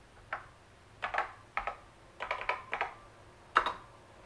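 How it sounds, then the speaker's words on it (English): Keys clack on a NABU computer keyboard in scattered single presses and short bursts, crisp and close, with pauses between strokes in an otherwise quiet room. "What happens if I type now?"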